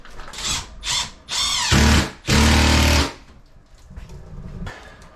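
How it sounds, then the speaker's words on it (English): A power drill drives screws into cement backer board during a bathroom renovation, running in several short bursts followed by two longer, louder whirring runs, close up with no talk over it. "I usually put the drill down here and then put the screw on, come up to there."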